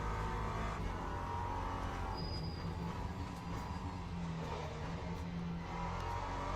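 A race car engine in the video game Le Mans Ultimate drones steadily at high volume with little variation, a continuous mechanical roar throughout.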